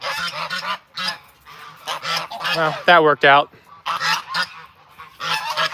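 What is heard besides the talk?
goose honking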